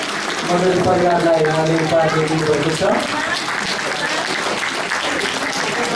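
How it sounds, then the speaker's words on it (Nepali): A church congregation applauding at a 25th anniversary gathering in Kathmandu, a steady wash of many hands clapping throughout, heard under someone speaking into a microphone. "अनि ताली बजाइने रहेछ"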